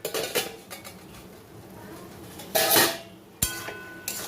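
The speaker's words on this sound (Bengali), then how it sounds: "এখন আমি এটা চাপা দিয়ে রাখবো" Metal clanks from a cooking pot holding rice simmering in water: several sharp knocks, then two louder rattling bangs as the lid is set and shifted over the pot, with a quiet hiss between them.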